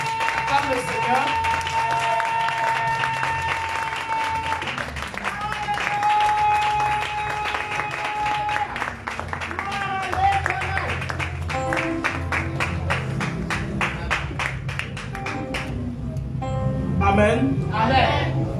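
A church congregation standing to applaud and acclaim the Lord, steady sustained clapping over music with held tones, a voice speaking over it in French.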